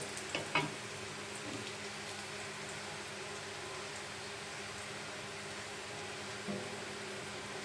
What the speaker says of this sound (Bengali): বেশি ডিপলি ভাজবো না, হালকাই ভাজবো